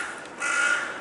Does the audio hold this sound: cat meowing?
no